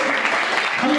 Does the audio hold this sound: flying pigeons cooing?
no